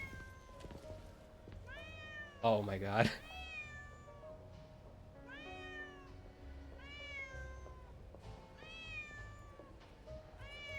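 Repeated talkative meows from a cat in the video game Neverness To Everness, several rising-falling calls spread evenly through the stretch, with a person's voice breaking in briefly near the start over soft game ambience.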